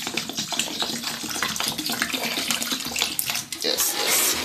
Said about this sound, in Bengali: এটাকে এখন আমরা জল দিয়ে ধোবো